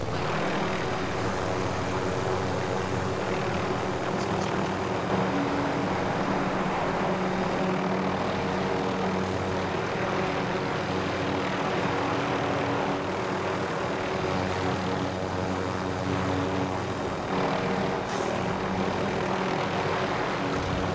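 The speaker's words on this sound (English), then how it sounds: "Helicopter's really loud." Loud, steady mechanical roar of a helicopter engine in Call of Duty: Modern Warfare, with continuous rotor drone, filling the whole stretch without pause.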